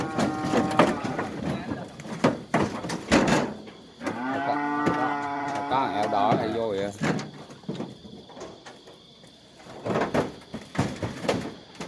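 Cattle at a farm lowing during truck loading, with a long drawn-out moo in the middle and other shorter calls. Clanks and bangs from the truck and gates sound around them, and someone speaks at times.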